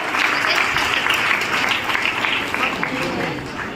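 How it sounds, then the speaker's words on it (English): Applause from a crowd at a college graduation ceremony on stage, a dense, continuous clapping that stays loud and even before easing slightly at the end. "Give them a huge round of applause."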